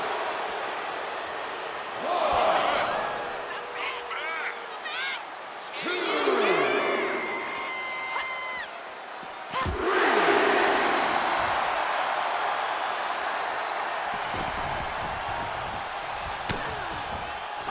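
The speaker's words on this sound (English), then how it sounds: "And now Lash is playing to the crowd" A crowd roars in the WWE 2K26 wrestling video game, sustained cheering that swells and fades in waves, with slams and a commentator's voice over the arena noise.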